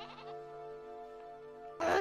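A goat bleats in an animated film, giving a long, wavering, nasal cry that holds steady for nearly two seconds before a louder burst of noise cuts in.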